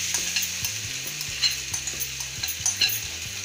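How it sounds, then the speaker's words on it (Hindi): Batter of Maggi noodles and besan poured into an oiled pan sizzles and fries steadily, with stirring and scraping clatter up close and no talking. "अब हम अपने मिक्सचर को इसमें डाल रहे हैं।"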